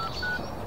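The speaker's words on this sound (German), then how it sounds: "Herr Werner, nehmen Sie Ihr Handy und rufen Sie die Bullen." A mobile phone keypad beeps with dialing tones as someone calls the police, a short, steady run of close tones that fill the moment without speech.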